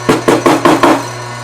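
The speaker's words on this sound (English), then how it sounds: "You can help to give it a tap with the hammer." A hammer taps a seam to set the fold, five sharp knocks in an even rhythm, loud and close with nothing else heard.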